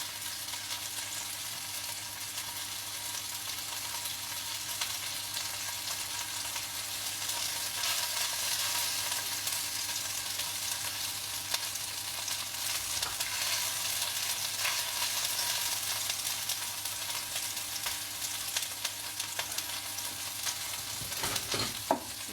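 Turkey pieces browning in a hot pan, a continuous loud sizzle and crackle that holds steady throughout, with occasional stirring or scraping near the end.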